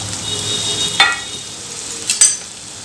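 Small chopped onions fry in oil in a pan for mutton chukka, a continuous soft sizzle broken by two sharp metallic clinks of a stirring spoon against the pan.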